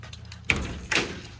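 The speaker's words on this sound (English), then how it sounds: "I'll open the door for you." The door of a Disney Astro Blaster ride car, displayed at a roller coaster museum, is opened nearby, two quick solid knocks or clunks about half a second apart over a low room hum.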